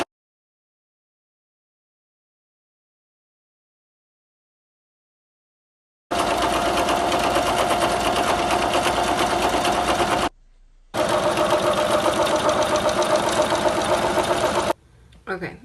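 A sewing machine runs a regular stitch along fabric for a ruffled onesie, a fast steady whirring that follows a long silence, breaks briefly, then resumes before stopping.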